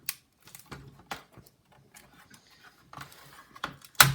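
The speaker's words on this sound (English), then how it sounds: "And then I can unscrew some more screws." Small screws being turned out of a laptop with a screwdriver, giving scattered faint clicks and ratcheting ticks with quiet gaps, ending in a sharper louder click.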